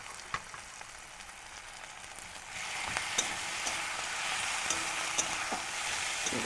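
Ginger-garlic paste frying in hot oil with onion, green chilli, tomato and cumin for aloo dum, a steady sizzle that swells louder partway through, with scattered scrapes of stirring and no talking.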